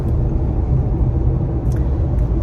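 A car drives along the road, heard from inside as a loud, steady low rumble of engine and tyres with a couple of faint high clicks.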